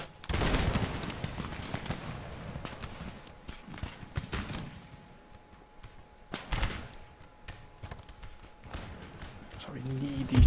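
Musket volleys crack out in an Empire: Total War battle with Spanish forces: several loud, crashing bursts of massed gunfire spaced a few seconds apart over a busy background of battle noise.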